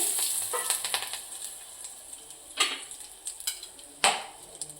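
Cumin, carom seeds, cinnamon, cloves, bay leaf and curry leaves dropped into hot oil for tempering urad dal, giving a steady soft sizzle with several sharp spluttering crackles and utensil clinks.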